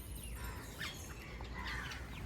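Sparrows calling in short chirps and squawks, a few small birds close by over a steady outdoor background hum, with no talking.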